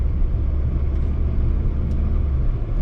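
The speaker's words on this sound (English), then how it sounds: "We're gonna just drive this thing around for a little bit and see what she does." A Saab 9-5 Aero with about 200k miles, transmission recently serviced, drives steadily with a continuous low engine and road rumble heard from inside the cabin, with no talking.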